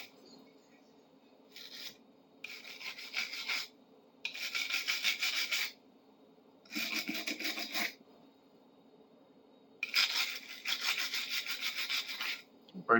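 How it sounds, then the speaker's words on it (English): A wire brush scrubs loose rust and chrome off a seized adjustable wrench in several rasping bursts of back-and-forth strokes, close and steady, separated by short quiet gaps. "We'll brush it down."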